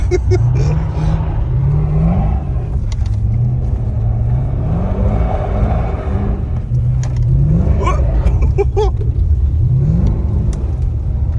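A Mercedes-AMG car driving on an ice track: a steady engine rumble with repeated rises and falls in revs as the driver accelerates and eases off, recorded close and loud throughout.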